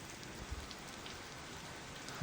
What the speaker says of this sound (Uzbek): Yomg'irlar yog'yapti.